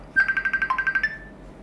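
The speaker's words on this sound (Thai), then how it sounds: "นะมีสายเข้านะครับ" A smartphone ringtone for an incoming call plays as a fast run of about a dozen bright, evenly spaced electronic beeps, loud and close, with no other sound around it.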